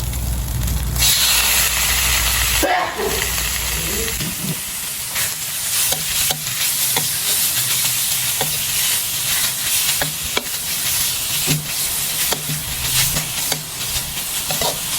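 Pork stir-frying in a pan with chili curry paste, a loud continuous sizzle and hiss broken by scraping stirs and clatters of the utensil, close up with no voices.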